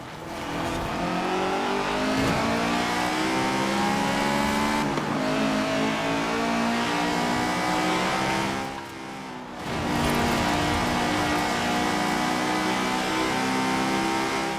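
A car engine in the video game Forza Horizon 4 revs and drones continuously, pitch rising through gear changes, with a brief dip in the middle before climbing again.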